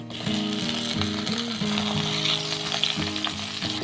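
Raw green mango slices, peeled and cut, fry in a mustard-oil tempering with green chillies: a steady close sizzle with bubbling, accompanied by a repeated mechanical whirring hum that pulses on and off.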